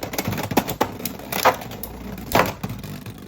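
Beyblade X spinning tops, including a Hasbro-exclusive Steel Samurai 4-80 T, launched into a stadium and clashing, giving a run of sharp plastic clacks and scrapes at uneven intervals, fairly close and moderately loud with no talk.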